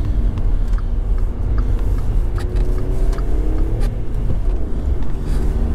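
A VW Up with a 75 PS engine and a five-speed manual gearbox, heard from inside as a steady, loud cabin rumble of engine and road noise.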